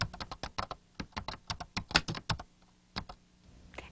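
Keys on a 1990s computer keyboard clatter in a quick run of crisp taps as a word is typed, close and alone, trailing into a few slower presses.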